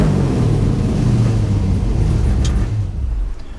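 A 1972 Buick Skylark's engine running on its first drive in years, a loud, steady low rumble heard from inside the car that eases off and fades toward the end, with no voices.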